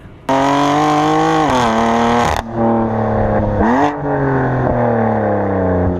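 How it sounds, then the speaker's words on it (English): A Dinan-tuned BMW M4 with Remus straight-pipe mid-pipe and active exhaust revs loudly and steadily up close, its raspy exhaust note rising and falling through several throttle blips. "We've got Dinan cans and a Remus straight pipe mid-pipe with active exhaust."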